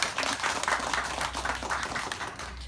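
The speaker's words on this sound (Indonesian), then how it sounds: "Tepuk tangan untuk kita semua." A crowd at an Indonesian political gathering claps after spirited chanting, a fairly quiet but steady patter of many hands lasting a few seconds and easing slightly toward the end.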